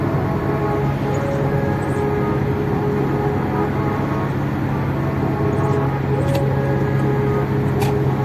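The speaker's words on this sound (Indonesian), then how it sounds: "Dengaran suara, kalian bisa dengar suara mesinnya." A Toyota Innova petrol engine under load during a highway drive, a loud, steady drone of engine and road noise inside the cabin, continuous and unbroken, without talk.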